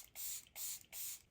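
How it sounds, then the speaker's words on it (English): Charlotte Tilbury makeup setting spray misted close up in three quick, even hissing bursts with short pauses between them, with no talking. "go ahead and do the setting spray"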